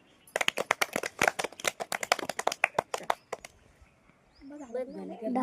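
A group claps together in a fast, uneven burst of sharp hand claps lasting about three seconds, fading out before a voice starts speaking.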